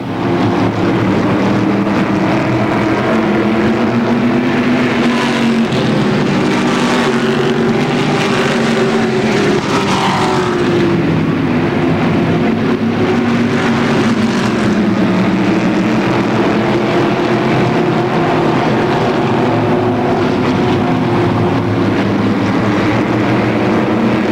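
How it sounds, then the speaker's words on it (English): Open wheel modified race cars roar around the Motordrome Speedway oval in a heat race, a loud, continuous engine drone whose pitch rises and falls as the pack circles, with no commentary over it. "the 2nd Smell Pontiac GMC open wheel modified heat race"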